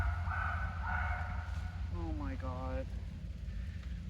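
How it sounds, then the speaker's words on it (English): A dog barks a few times at a spring cookout, the yelps rising in pitch, heard at a moderate distance under a steady low rumble and partly mixed with voices nearby. "I guarantee he is barking at birds."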